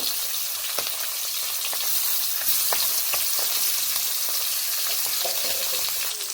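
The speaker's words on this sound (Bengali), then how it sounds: "মাছগুলোকে আমি এইভাবে ভেজে নেব" Small stripped dwarf catfish (tengra) fry in hot mustard oil with a loud, steady sizzle and crackle, occasional pops and spatters, no voices.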